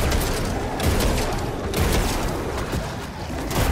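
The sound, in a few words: Duality slug shotgun firing in video game Destiny 2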